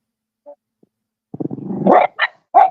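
A dog barks several times up close, a short run of sharp barks with a brief growly lead-in, heard alone without talk.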